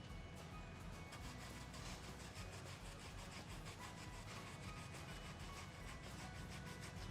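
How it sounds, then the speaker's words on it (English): Potato rubbed across a box grater for hash browns, a dense, continuous rasping scrape with quick repeated strokes, close and steady throughout with no talking. "I'm going to be using this side of the grater."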